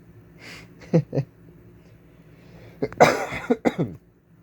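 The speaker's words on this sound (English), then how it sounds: "There's a cough." Close coughing comes in two bursts, first a short pair of coughs, then a harsher cluster of several coughs after a brief pause.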